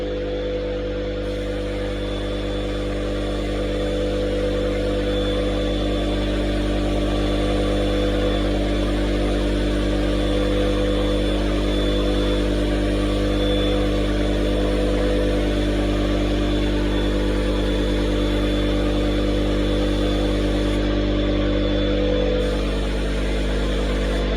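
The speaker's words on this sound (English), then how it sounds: "Sorry about that noise. That's my air compressor running." A steady air compressor motor hum drones continuously at an even, loud level, a constant whir with no breaks.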